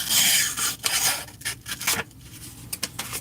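A blade is sharpened on 100 grit abrasive with loud, close rasping strokes that come in quick uneven passes, without talk.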